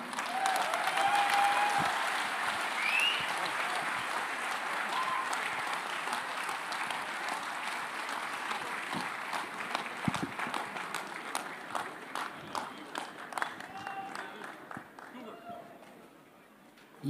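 Audience applause at a large Ramayana film event, a broad steady roar of clapping that thins into scattered individual claps toward the end, with crowd noise and some voices beneath.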